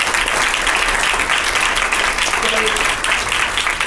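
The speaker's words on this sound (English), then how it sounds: "So can we have a big round of applause for the speakers who have come before?" Audience applause for the speakers at an international alumni meeting, a dense, steady wash of clapping from a large crowd that holds at an even level throughout.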